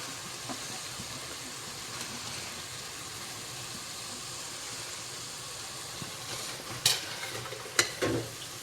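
Coconut and coriander sautéing in a pan for chutney give a soft, steady frying hiss throughout, with a few sharper spoon scrapes and clinks toward the end.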